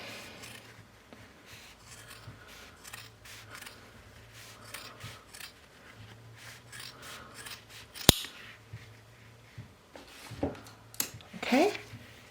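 Scissors trim back the seam allowance on a fabric coat, giving soft repeated snips and rubbing of cloth, faint and close, with a sharper click near the end and some quiet handling noise.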